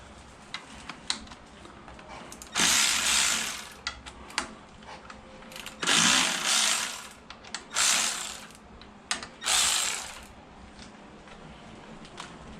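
A power tool loosens bolts on the front fork of a 2014 Kawasaki ZX6R, with four loud buzzing bursts of a few seconds each, separated by quieter clicks and handling noises, close by with no talk.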